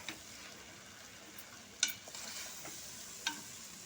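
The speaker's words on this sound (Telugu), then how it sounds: "వెజిటేబుల్స్ని అండ్ నూడిల్స్ని మనం బాగా మిక్స్ చేసేసుకోవాలి" Vegetables and noodles are stirred and tossed together in a hot pan for street-style veg noodles, giving a faint, low sizzle with a few soft scraping clinks of the utensil. No speech is heard.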